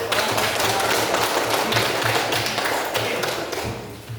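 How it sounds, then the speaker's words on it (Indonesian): Applause from a classroom of students during group presentations: loud, dense clapping that holds steady and then fades out toward the end. "Beri tepuk tangan dulu yang meriah"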